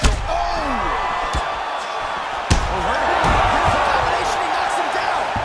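Punches land in a UFC 5 video game bout between McGregor and Hooker, heavy thuds and slaps over a constant crowd roar, with one sharp impact standing out midway.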